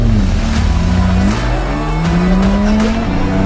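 A car engine revs loudly and steadily close by, pitch climbing and dropping through several gear changes, with a faint tire squeal over the constant drone.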